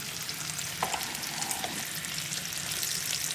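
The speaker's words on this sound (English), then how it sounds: "And then I'm getting ready to put my bacon." Bacon sizzling and crackling in a hot pan, a steady bright hiss with a brief clink partway through.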